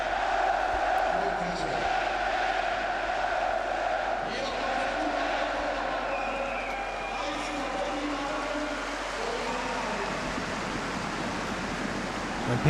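Football supporters roar and chant in the stands at a 1. FC Magdeburg versus TSV 1860 München third-division match, a dense sustained crowd noise filling the stadium at a constant loud level.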